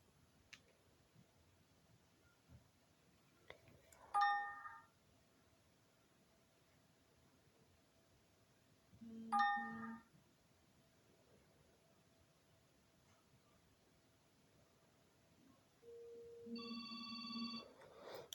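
An incoming telephone call rings in three separate electronic bursts spread over several seconds, fairly clear against a quiet background, with a different two-tone ring pattern near the end.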